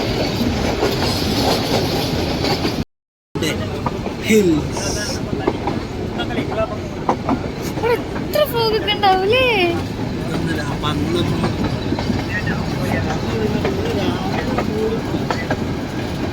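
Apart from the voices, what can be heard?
train running on rails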